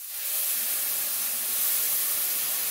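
Prosciutto juice poured into a hot pan sizzles steadily and fairly loudly, a dense hiss holding for a few seconds without any talk.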